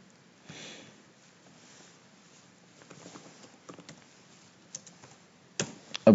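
Scattered keystrokes on a computer keyboard while code for an Arduino function is entered, quiet irregular taps with pauses, a few sharper clicks near the end.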